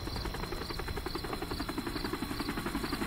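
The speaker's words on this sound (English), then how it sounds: "Lots of choppers coming and going." Helicopters circle in the Metal Gear Solid V game, a steady pulsing rotor drone with a rhythmic chop and a high whine layered over a constant insect-like buzz, with no speech.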